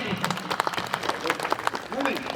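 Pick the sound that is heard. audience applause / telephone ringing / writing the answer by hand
audience applause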